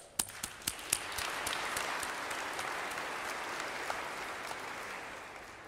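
Audience applause inside a church at a Christmas concert, a few sharp early claps swelling into a steady, reverberant round of clapping from a sizeable crowd that slowly tapers off.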